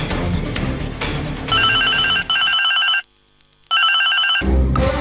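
A mobile phone ringtone rings loudly in repeated electronic bursts, breaks off into near silence for a moment, then resumes.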